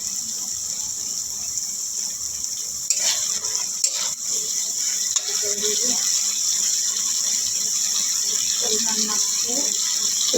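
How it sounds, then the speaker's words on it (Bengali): Water is poured into a pan of fried spices for a bhola fish curry gravy; a steady sizzle rises into a louder rushing hiss partway through, with occasional stirring clatter. "এরপর আমরা পরিমাণ মতো ঝোলের জন্য একটু জল দিয়ে দিই।"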